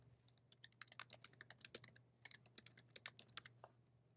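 Rapid clicking of typing on a computer keyboard while entering a comment, an irregular run of close, crisp keystrokes over about four seconds with a faint steady hum underneath.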